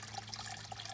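Merlot wine running steadily out of a grape press during pressing, a continuous close trickling pour of liquid with no talk.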